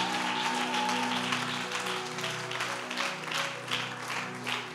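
A church congregation applauds together in sustained, fairly loud clapping, with held musical tones sounding underneath and the applause gradually thinning toward the end.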